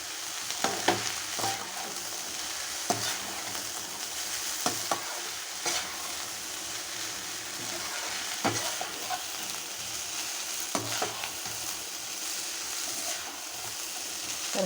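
Rice for hotel-style beef rice fries in a pan while being stirred, with a steady close sizzle broken by repeated scraping strokes of the spoon. No one talks.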